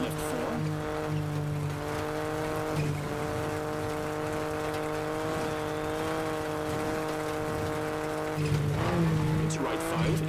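A rally car in WRC 10 slides through a bend in New Zealand, its engine droning at a steady pitch while tyres scrub and squeal, a loud near roar that a commentating voice speaks over.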